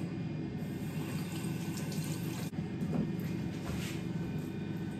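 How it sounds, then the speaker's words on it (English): Water runs steadily from a bathroom tap as face scrub is rinsed off, a continuous splashing gush filling the sink with faint shifts as hands move through the stream. "We're gonna wash it off."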